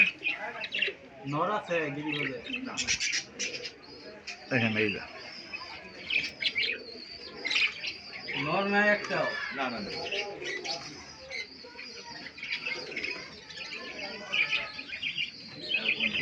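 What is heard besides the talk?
pigeons cooing in a bird shop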